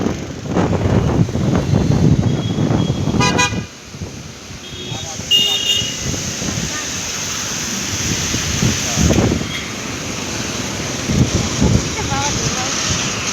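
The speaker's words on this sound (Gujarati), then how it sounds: "કેટલો પવન જોરદાર હે," A strong, gusty outdoor wind whips up dust and buffets the microphone in uneven roaring surges, while people talk over it.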